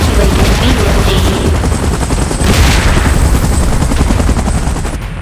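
In a Mechagodzilla versus Godzilla and Kong animation, a helicopter holds position during an evacuation, its loud, dense rotor chop steady and close amid heavy rumbling action noise.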